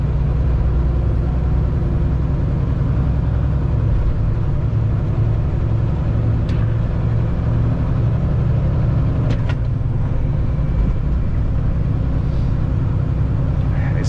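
A car cruises along a highway on a quiet holiday morning, with a steady, loud road rumble and engine drone that continues unbroken throughout.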